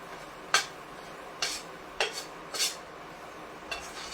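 Jaggery powder being stirred into a dish with a spoon: five separate scraping clinks of utensil against the vessel, spaced unevenly and close by, with no talking.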